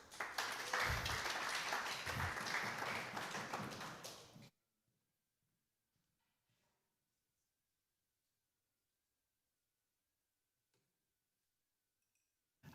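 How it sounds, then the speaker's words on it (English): A brief burst of audience applause at a blockchain security conference, loud and dense for about four seconds before cutting off abruptly into near silence. "Everyone give a big round of applause."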